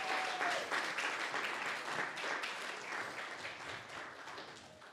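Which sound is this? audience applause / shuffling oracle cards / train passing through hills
audience applause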